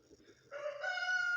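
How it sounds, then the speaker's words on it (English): A rooster crows once nearby, a rising, strained call that swells and holds its pitch, fairly faint against a quiet background. "that rooster is really getting after it"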